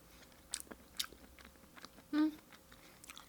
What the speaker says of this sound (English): Get a little bit of crunch.